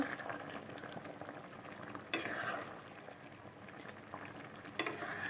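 Fish roe curry gravy bubbling and sizzling in a pan, a continuous low simmer with occasional scrapes of a spoon stirring, close and fairly quiet.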